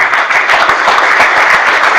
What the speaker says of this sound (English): I'd like you to applaud every single name that I say.